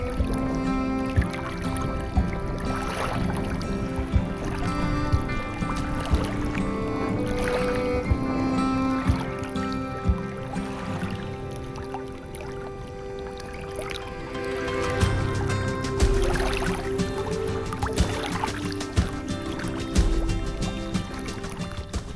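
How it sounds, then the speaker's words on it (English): A small sailboat under sail on a bay, with water sloshing and trickling against the hull and rigging noises at close range, steady throughout with occasional louder splashes and knocks. "The boat sails very well, and it turns every wind puff into forward motion"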